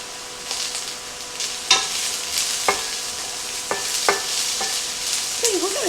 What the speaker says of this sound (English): Cook the onions down for about 3 to 4 minutes until they're nice and soft and translucent.